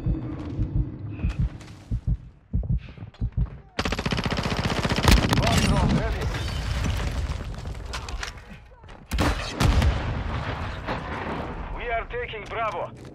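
Automatic gunfire and explosions in a Call of Duty: Modern Warfare II multiplayer match, with loud rapid bursts of shots and booms from about four seconds on, preceded by quieter game voice lines and effects.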